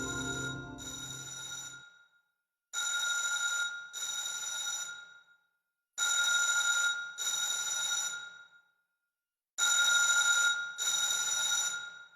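A telephone rings in repeated double trills separated by short silences, clear and steady, with a brief muffled noise at the start.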